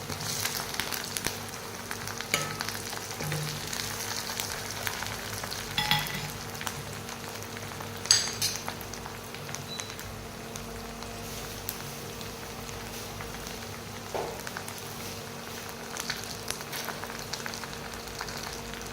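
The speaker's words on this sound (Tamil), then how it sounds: "இதெல்லாம் நல்லா கொதிக்கட்டும்" Low, steady bubbling of a homemade hair-growth oil mixture simmering in a pan, faint and continuous with occasional small pops and clinks, no voices.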